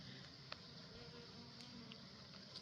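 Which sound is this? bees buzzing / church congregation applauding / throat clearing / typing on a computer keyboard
bees buzzing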